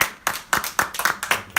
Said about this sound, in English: Can you clap hands for her?